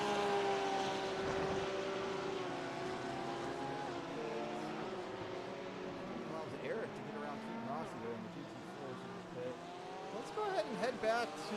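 LMP2 race cars sweep past GT3 cars in a racing video game, several engine notes whining and shifting pitch as they overlap and pass, under steady commentary talk.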